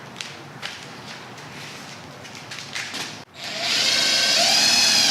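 A power driver runs self-tapping screws into the aluminium extrusion of a CVT Pioneer Series roof top tent, with light taps and handling noise first, then a sudden loud, steady whirring drive close by for the last two seconds.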